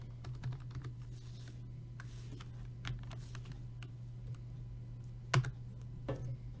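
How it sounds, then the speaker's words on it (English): Keys clatter on a computer keyboard in short, irregular bursts of close taps over a steady low electrical hum, with no one speaking. "So let's type it in."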